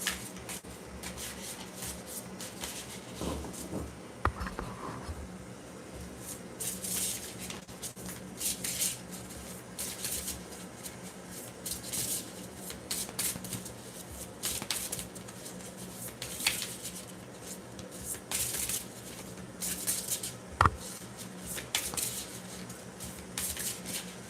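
Tarot cards are shuffled by hand, and a couple of the cards are oversized. Soft riffling and rubbing sounds repeat steadily up close in a quiet room.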